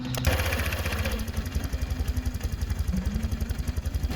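A motorcycle engine with a newly replaced tensioner idles steadily at close range, with a rapid, even low putter and faint clatter throughout, no voices.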